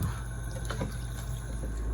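Water poured into a pan of chickpea masala, a soft continuous splashing pour over a low steady kitchen hum.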